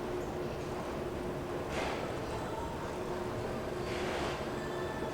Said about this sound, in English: the Aria expressway, which is a tram that goes from the Monte Carlo all the way to Bellagio